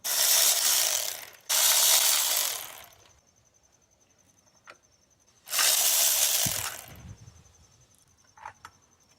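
A ratchet clicks in three fast, loud bursts, two early and one midway, with light metallic taps between them. It is loosening 12mm bolts on a bracket of a 2015 Toyota Sienna during a water pump replacement.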